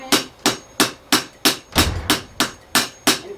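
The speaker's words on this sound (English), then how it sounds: "So we'll just keep hammering and hammering" Hammer blows strike a part of a circular epoxy table, about ten sharp, evenly spaced knocks roughly every third of a second, loud and close with no talking.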